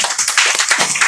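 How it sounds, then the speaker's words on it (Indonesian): A short burst of hand clapping in a rehabilitation group session hall, several people clapping together loudly and close for about a second. "Oke, tepuk tangan dulu Mas."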